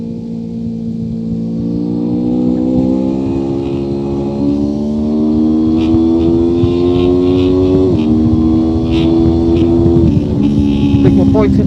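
A 1999 Honda VFR motorcycle engine drones loud and close throughout an onboard lap of the Nürburgring Nordschleife, its pitch climbing steadily, dipping at two gear shifts and then rising again, with wind roar layered over it.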